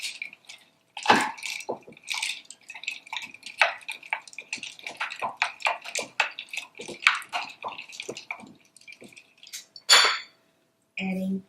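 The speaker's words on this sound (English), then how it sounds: "Give it another stir." Berry limeade with sliced strawberries stirred in a pitcher, giving irregular wet clinks, sloshes and drips, close and moderately loud, with a brief louder splash near the end.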